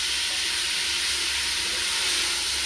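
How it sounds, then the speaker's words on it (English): 500 grams of mince frying in a pan for Lebanese rice, a steady close sizzle and hiss that holds evenly throughout with no talk. "So I've added 500 grams of the mince, and I'll cook it off until it's all fully cooked off"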